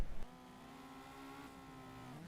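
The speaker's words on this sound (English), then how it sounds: "Cars coming out for another hot lap session." Race cars heading out for a hot lap session in the rFactor racing game on a Chili Bowl track, a steady engine drone holding a sustained pitch after a brief opening burst, moderately loud and uninterrupted.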